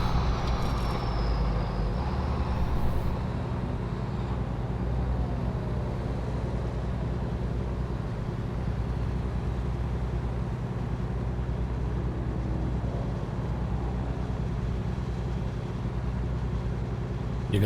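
American Truck Simulator city traffic: a constant dense rumble of trucks and cars with a hiss of air brakes near the start, steady and moderately faint throughout.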